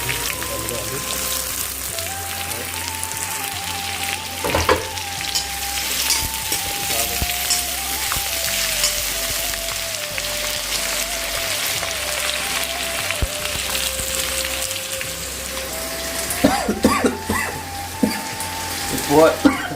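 Potatoes and onions frying in a pan for poha, a dense continuous sizzle and crackle close by, with a steady hum and occasional clatters running beneath it.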